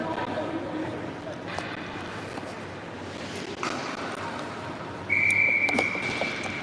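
A referee's whistle at an ice hockey championship game, the Winter Classic, sounds as a sharp, loud sustained blast near the end, over a steady roar of rink and crowd noise with a fainter tone earlier.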